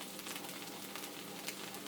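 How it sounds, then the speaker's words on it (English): Beaten eggs frying for fried rice give off a soft, steady, even sizzle, faint and close, with no voices over it. "Now it's starting to sizzle there, so those eggs are cooking."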